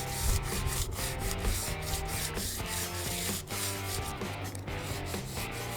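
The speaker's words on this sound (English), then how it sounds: "now we're going to sand the cracks with 220 sandpaper" Fine 220-grit sandpaper rubs over cracks in fiberglass, making steady back-and-forth scratchy strokes close up, with no talking.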